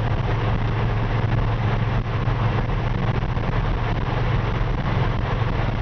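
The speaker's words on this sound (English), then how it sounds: "We're doing about 50 to 55 miles an hour right now, and the engine is just purring like a kid." A 1954 Ford F-100 engine runs steadily at about 50 to 55 mph, a loud continuous low drone with road and wind rumble, heard from inside the cab with no talking.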